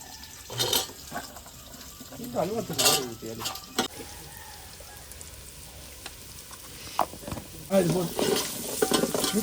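Sizzling and frying of fish in a pan with stirring scrapes and some water sounds, fairly close, with brief bursts of talk in the background.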